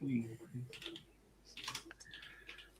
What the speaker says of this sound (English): I'm typing it into Google.